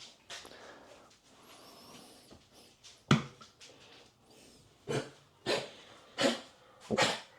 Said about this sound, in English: Would you choke on your own water? Dumb dog.